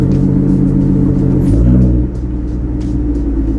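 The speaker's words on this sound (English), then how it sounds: "I'm just gonna drive around the block and see if I'm able to trigger it." A Ford Mustang driving around the block at low speed, its engine giving a steady loud rumble that shifts down in pitch midway as the car changes gear or eases off, with no talk over it.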